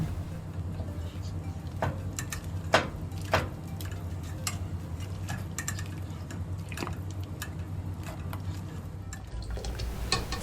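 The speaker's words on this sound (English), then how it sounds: "In the same water, stir ground pork until they loosen up." Ground pork being stirred in blanching water in a pot for Phnom Penh noodle soup: irregular utensil clinks and soft liquid swishes over a low steady hum.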